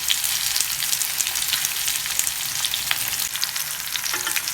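Fish frying in oil over a low flame: a dense, continuous close sizzle and crackle of hot oil, steady in level throughout with no talking.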